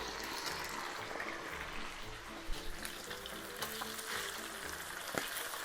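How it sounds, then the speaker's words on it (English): Chicken livers fry in a pan, a dense continuous sizzle with scattered pops and utensil clatter, fairly quiet and steady with no one talking. "We're gonna throw the livers in, cook those suckers down"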